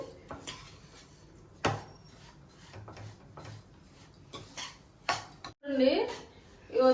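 Semolina (rava) fries in a pan over low heat, heard as intermittent scrapes and knocks of a spoon stirring against metal, fairly quiet, with a voice talking between the strokes.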